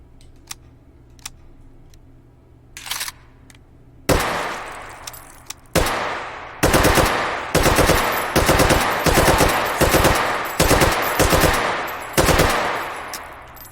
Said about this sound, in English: might as well at least get the AK going here